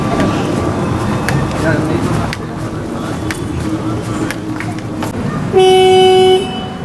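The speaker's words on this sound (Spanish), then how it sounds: "Justo los autos han estado tocando y el claxon" Car horns honking in street traffic, with a steady traffic rumble and a long loud horn blast near the end, while a voice talks over the traffic.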